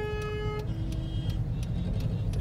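Car moving slowly in road traffic, a low steady rumble with a brief horn toot near the start and faint clicking ticks over the background.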